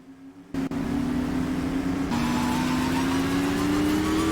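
Supermodified race car engines in a sim racing game during a heat race at Delaware Speedway, a loud continuous whine rising steadily in pitch as the cars accelerate, with a sharp jump in intensity early on.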